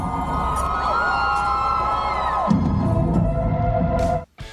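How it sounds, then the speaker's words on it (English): Onlookers standing around a monument at Glastonbury raise a cheer, a sustained crowd roar with rising whistles and shouts that swells midway and cuts off sharply near the end. "we get a big cheer from the vagabonds stood around the monument watching tonight"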